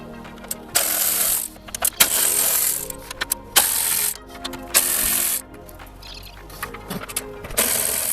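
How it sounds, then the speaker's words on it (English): A 12mm socket ratchet loosens bumper support bolts on a Honda Civic EF, giving close clicking ratchet sweeps in several bursts separated by brief pauses and light metallic handling. "Switching back to that 12mm socket for these bumper supports."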